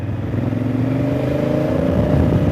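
A small motor buzzes steadily nearby, its engine drone rising slightly in pitch as the scooter passes.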